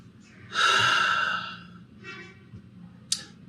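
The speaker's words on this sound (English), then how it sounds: "Take a deep breath." One deep breath: a long, loud airy inhale close to the ear, then a softer exhale, with a brief sharp breathy puff at the end and no words.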